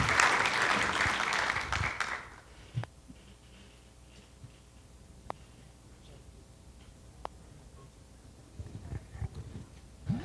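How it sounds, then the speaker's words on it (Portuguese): An audience applauds the session presenters at an environmental heritage and climate change conference session, with a loud burst of clapping in the first two seconds that quickly dies away, leaving quiet room tone and a few isolated knocks. "uma salva de palmas aqui para os nossos"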